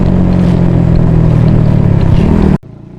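A motorcycle on a road test ride revs up and accelerates hard from a start, a loud, close engine drone rising in pitch before cutting off abruptly near the end, leaving only faint background noise.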